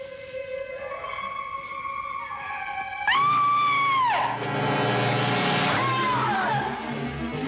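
A woman's scream from the 1953 horror film House of Wax, a loud, sustained high wail lasting about a second that breaks in sharply, followed by a second, shorter cry over a dense orchestral film score.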